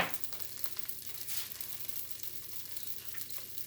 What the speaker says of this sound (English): tablespoon of fresh minced garlic, and I'm browning it